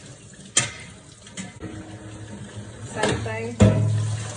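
Water splashing and running as the outside of a milk pail is washed by hand with a rag, with short surges of splashing and a rising gush near the end, under brief talking.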